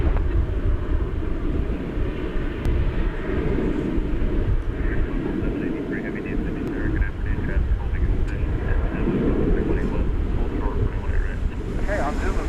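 A Boeing 777-300ER at DFW Airport making a loud, sustained roar heard from a distance, with wind buffeting the microphone and a voice talking over it.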